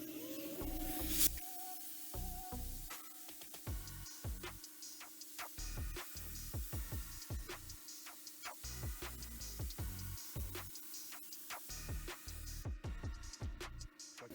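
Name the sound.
spraying glue onto fabric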